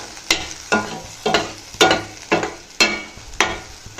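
A thick curry leaf, coriander and mint thokku frying in oil is stirred close up: about seven regular scraping strokes, each with a short bright scrape, over a continuous sizzle.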